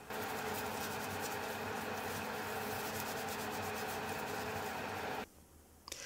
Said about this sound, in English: Once that's done, you can simply rub it off.